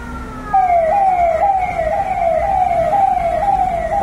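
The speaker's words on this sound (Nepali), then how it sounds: "तपाईँहरूले एम्बुलेन्स पनि आउँदैछ" Ambulance siren at night in Gangtok, a steady wailing tone that rises and falls repeatedly, loud and fairly close, with traffic rumble underneath.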